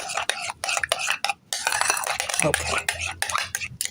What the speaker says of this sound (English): And we're going to stir to combine